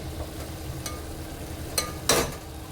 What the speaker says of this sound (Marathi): इथे बघा बऱ्यापैकी मसाला फ्राय होत आला आहे